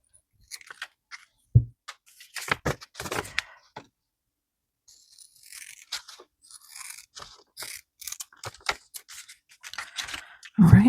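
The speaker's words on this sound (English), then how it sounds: "So I am going to trim the edges off just a tiny bit" Scissors trim the edges of paper for a planner cover, giving scattered close snips and light scraping cuts in short bursts with quiet gaps between them.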